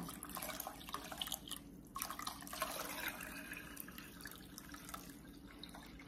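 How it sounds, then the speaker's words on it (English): Water pours steadily into a pot of great northern beans on a kitchen stove, a soft continuous splashing and trickle at low level with no talk. "So we're going to add some more water to the beans."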